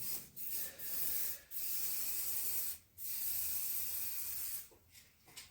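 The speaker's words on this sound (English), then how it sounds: "just give it a quick spray like that" An aerosol can sprays the action joints of a 1958 Welmar upright piano in several close, short hissing bursts separated by brief pauses, with no speech.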